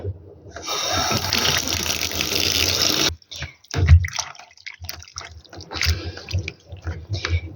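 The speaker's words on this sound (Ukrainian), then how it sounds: "Мало води зараз додам." Water pours loudly from a tap for about three seconds during a home cleaning experiment, then cuts off abruptly, followed by scattered knocks and handling clatter.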